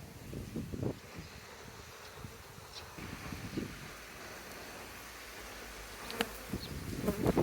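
A dense, steady buzz of many honeybees close by at the hive, with faint rustling and a few sharper sounds toward the end.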